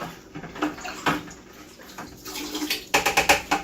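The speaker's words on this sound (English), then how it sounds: "you can hear it rubbing against the bottom of the bucket when you're stirring it" A spoon stirs a salt and sugar brine in a bucket for smoking chickens, scraping and sloshing against the bottom in uneven bursts, with a run of quick rhythmic strokes near the end, close and fairly quiet.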